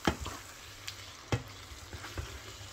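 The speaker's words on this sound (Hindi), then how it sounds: "इसको मैं थोड़ा सा इसको अच्छी तरह से भूनती हूँ" Spiced beef mince with vegetables sizzling quietly in a pan, a soft steady frying hiss broken by a few sharp scrapes and taps of a spoon stirring.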